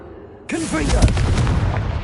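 Hogwarts Legacy's Confringo fire spell goes off after a quiet half-second, with a short warbling tonal sweep at the onset, then a loud, dense, explosive roar that holds steady to the end.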